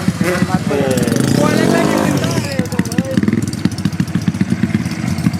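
A racing motorcycle being hand-started in a workshop, its engine catching and firing in a loud, steady buzz with rapid pops close by, while someone talks over it.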